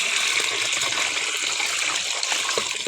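Tap water gushes steadily and loudly while foraged wild food is rinsed clean in a rustic countryside kitchen, a continuous broadband splashing rush with no pauses.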